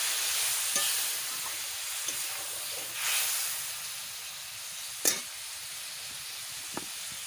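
Mackerel (bangda) pieces frying in a spice masala with a splash of water, a steady soft sizzle and hiss throughout, broken by a few brief sharper spits and pops, moderately quiet and without talk.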